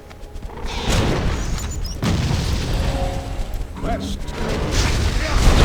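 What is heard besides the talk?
Embermage firestorm skill explosions in video game Torchlight 2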